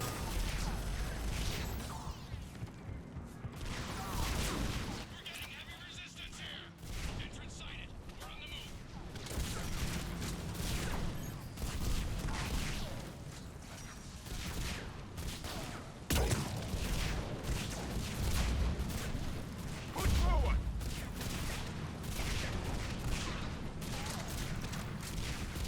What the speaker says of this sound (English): Where's that coming from? Or is that just random explosions?